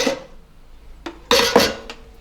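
Raw chicken wings go into an air fryer bowl with a few quick clinks and clattering knocks against the metal, brief and close, with short quiet gaps between them.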